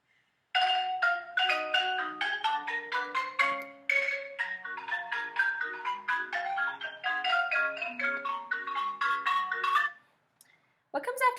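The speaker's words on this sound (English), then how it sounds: "They are playing marimba stars," Marimba plays a quick, lively run of mallet notes, bright and continuous for several seconds, close and alone, ending abruptly before a brief final sound.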